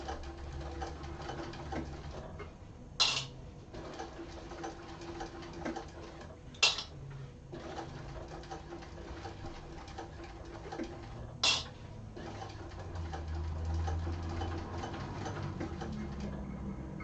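A sewing machine stitches a handbag in a steady, soft mechanical whir, with a few sharp, brief clicks spaced apart as the stitching pauses and resumes.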